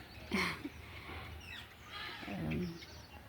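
A small bird gives a couple of short chirping calls, one near the start and another about two seconds later, over quiet outdoor background.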